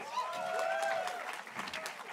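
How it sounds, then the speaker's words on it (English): Audience applause at the St. John's College Santa Fe 2022 commencement, a dense, fairly distant patter of clapping sustained throughout. "celebrating this year's undergraduate class with a round of applause"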